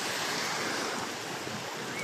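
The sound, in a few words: sea waves at Boracay beach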